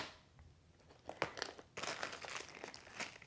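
A pack of waterproof playing cards is handled up close, giving soft plastic crinkling and crackling that starts faint, then turns into busier, louder rustles, with no talk.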